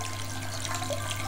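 Water from a submerged aquarium power head flows out through a perforated spray bar onto filter material, giving a steady, close, continuous trickle and splash over a low constant hum, with no talking.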